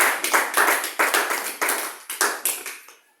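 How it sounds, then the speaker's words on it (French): Church congregation applauding at a Sunday service: a close, loud burst of clapping in an uneven, pulsing rhythm that surges several times, then fades out after about three seconds, with no talk. "On acclame encore pour la gloire de Dieu."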